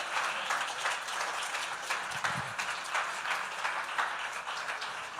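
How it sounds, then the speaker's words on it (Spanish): A church congregation applauding loudly and steadily, a dense wash of clapping that fills the whole stretch with no voices on top. "Hermano, sepa usted dar un aplauso al Señor fuerte"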